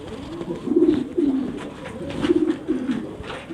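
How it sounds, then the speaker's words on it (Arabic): A Zaghloul silver pigeon coos close by in soft, throaty bursts, several rolling coos in a loose rhythm with short pauses between them and no talking. "الحمام ده يا جماعه ده زغلول سيلفر"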